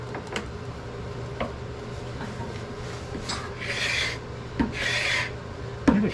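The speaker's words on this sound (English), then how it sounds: "This is a nice piece of maple. It's got a nice figure on it. Let's scrape that just a little bit here." Scraper dragged across a figured maple board in a machine shop, giving repeated rasping strokes: short scrapes early, then two longer, louder passes and a sharp final stroke, close and distinct over a steady low shop hum.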